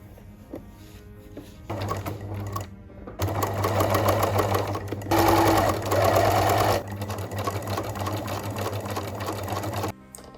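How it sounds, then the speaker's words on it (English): A sewing machine stitches satin fabric and lining for a miniature costume, running in loud buzzing bursts of whirring needle action that start, stop briefly and restart, close up with no speech. "let's start sewing"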